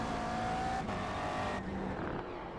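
McLaren MP4 race car engine in iRacing at Fuji, droning steadily and loudly throughout with a gear change partway, the pitch shifting as the car works through the low gears.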